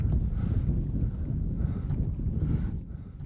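Strong wind buffeting a fishing boat on the Indian River Lagoon in Florida: a loud, steady low rumble of gusts against the microphone, continuous with no speech.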